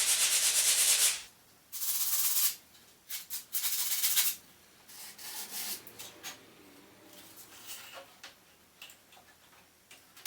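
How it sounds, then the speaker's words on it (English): Scrap laminate countertop is hand-sanded to a bevel on its end, with rough rasping strokes in short bursts, loud at first and then fading into quieter, irregular scrubbing and ticks close by. "Just gonna take my scrap end and sand on a bevel on this end"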